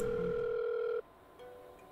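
A steady telephone dial tone hums for about a second, then cuts off and a fainter tone follows. It plays while fuel support is called in a flight simulator with a HotStart Challenger 650 at Florida Keys Marathon International.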